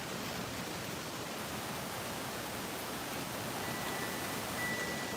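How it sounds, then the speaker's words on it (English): Strong gusty wind roars steadily as a broad, rushing noise, close and loud for the whole stretch with no letup and no voices. "Gusty winds, oh goodness."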